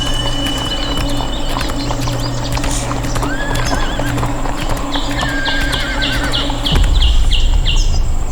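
Horses' hooves clip-clop steadily in a forest, with a horse neighing and birds chirping around them, a loud, close sound effect with no speech.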